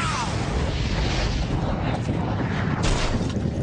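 Compact rocket sled firing its second stage, a sustained loud roaring blast that fills the whole clip with dense broadband rumble and a sharper surge near the end.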